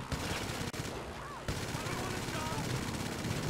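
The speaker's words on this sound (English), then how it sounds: "Oh, this is a bad machine gun." Automatic machine-gun fire from a vehicle-mounted gun in GTA Online, a dense continuous burst of loud rapid shots with a brief break near the start, mixed with game action noise.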